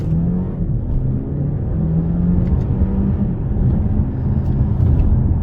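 An Alfa Romeo Tonale Speciale with 280 hp and all-wheel drive accelerates hard, its engine a steady, loud rumble with rising tonal pitches under continuous road noise, and no talk.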